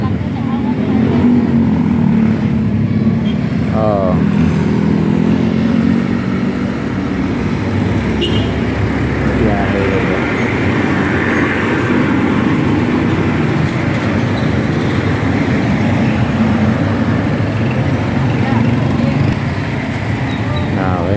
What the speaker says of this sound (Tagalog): bilangin ang ilan na ang mga sasakyan na dumaraan